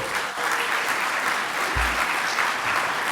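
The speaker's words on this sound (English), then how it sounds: "So give yourselves a round of applause." An awards ceremony audience gives a steady, dense round of applause that stays even and fairly loud from start to finish.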